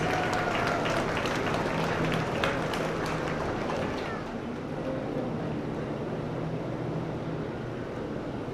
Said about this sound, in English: Let's give this awesome group of cattle a huge round of applause